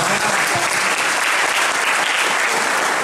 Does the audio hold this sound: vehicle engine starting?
no